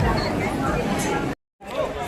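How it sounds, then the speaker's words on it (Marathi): Crowd chatter fills a busy temple with a long queue for darshan. A dense, close babble of many voices runs on, cuts out briefly to silence, then resumes. "आहे गर्दी आहे"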